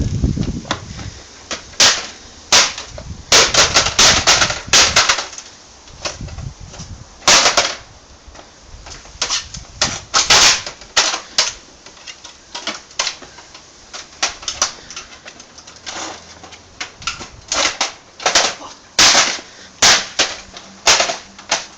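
Sharp plastic clicks and snaps repeat irregularly as the back case is pried off an Xbox 360 with a red ring fault, close and loud with short gaps between bursts.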